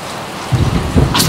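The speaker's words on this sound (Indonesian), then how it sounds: "ada petir lagi" Rain falls steadily with a low rumble of thunder rolling in partway through, ending in a brief sharper crackle.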